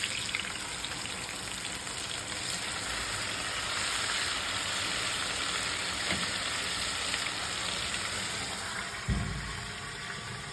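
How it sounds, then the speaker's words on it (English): Chicken seasoned with Italian dressing and pecans sizzles on a hot grill in a steady, soft, crackling hiss, with a brief clunk near the end and no talking. "you're gonna hear some sizzle"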